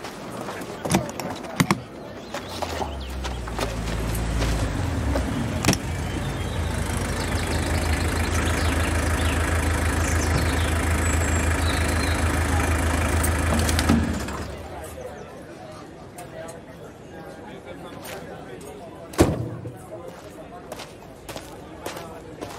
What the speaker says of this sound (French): Tu vas essayer ta moto?